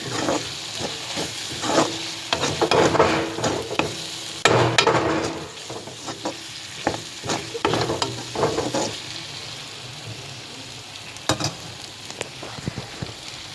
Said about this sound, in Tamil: நல்லா இதோட இது கலந்து விட்டு பச்சை வாசனை போகிற அளவுக்கு நல்லா வதக்கி வேணும்